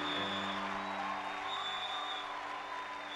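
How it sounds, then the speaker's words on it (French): A church congregation in Brazzaville claps steadily, a dense wash of applause with a few scattered cheers, some distance away and continuing throughout. "Donnons une puissante offrande d'acclamation à Jésus."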